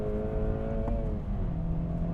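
Acura Integra Type S engine, a Honda four-cylinder with a manual gearbox, held at steady revs that hang briefly before easing off, heard from inside the cabin as a loud continuous drone.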